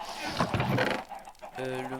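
Chickens clucking in the video game Minecraft, short rhythmic fowl calls near and fairly loud, followed by a steady harmonic tone, with no talk over them.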